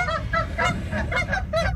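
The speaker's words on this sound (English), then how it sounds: "I was sleeping pretty well on this peaceful little island until the geese started waking me up." Geese honk in a rapid series of about seven nasal calls, close and fairly loud, on a small jagged island in the early morning.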